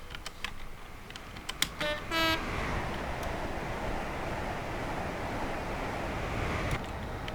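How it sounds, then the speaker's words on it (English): In Train Simulator 2020, a short horn blast sounds, then a steady, rushing roar builds as an HST train passes close by and continues for several seconds. "Here comes the train."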